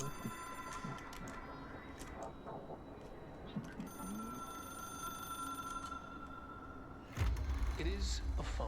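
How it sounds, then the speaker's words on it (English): A telephone bell rings faintly and steadily, with thin sustained tones beneath background chatter and noise that swells louder near the end. "It is a phone."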